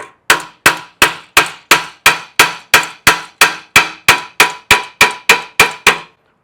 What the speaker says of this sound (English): Now, with the hammer and a piece of wood, which is another hammer, we're going to tap right here.